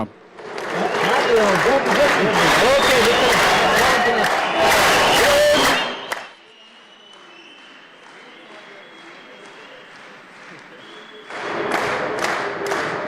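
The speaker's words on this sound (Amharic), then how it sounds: "ሞቅ ያለ ጭብጨባ።" An audience at an inauguration ceremony for an agro-industrial park gives loud, sustained applause for about six seconds. A quieter stretch follows, then a second burst of clapping near the end.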